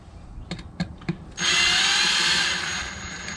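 A power drill fitted with a flat-blade bit drives screws into an outdoor outlet box in a backyard, preceded by a few soft clicks and then running as a loud, steady whir for about two seconds.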